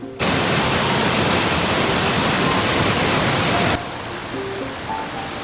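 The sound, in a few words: waterfall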